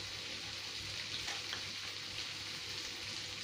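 Cashews and ginger fry in hot oil in a pan, a soft, continuous close sizzle with faint stirring.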